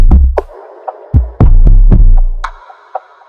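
Dry, unprocessed percussion drum loop for a dark trap sample: deep booming kicks and sharp hits in an uneven rhythm, loud and close, with nothing else playing.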